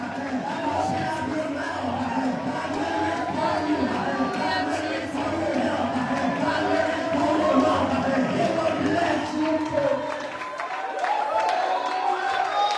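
A church congregation at an evangelistic healing service claps and cheers for God, a continuous crowd roar of clapping and voices that holds steady before thinning out near the end.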